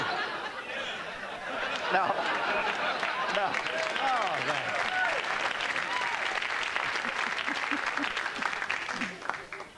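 Studio audience applause on a late-night comedy talk show, a broad wash of clapping mixed with cheers and some chuckling, building in and holding steady for several seconds before tapering.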